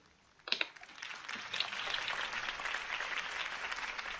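Crowd applause greets a campaign speech in a PS4 video game, beginning with a couple of sharp claps and then swelling into a steady, moderately loud wash of clapping that lasts to the end.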